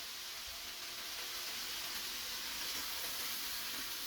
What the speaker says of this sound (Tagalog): Ngayon, lagay na natin yung tubig